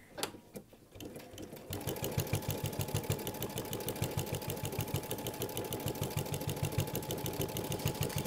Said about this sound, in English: the thing about a walking foot is it always makes a little bit more noise